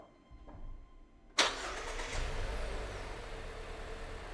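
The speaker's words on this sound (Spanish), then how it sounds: "vamos a ver si el coche arranca o no." A car starter cranks as the engine, with its control unit's reference-voltage line shorted for a test, tries to start. A sudden loud burst gives way to a steady mechanical churning rumble.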